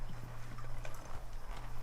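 Horse hooves clip-clopping at a walk during a ranch riding lesson, a steady close series of soft thuds over a constant low hum.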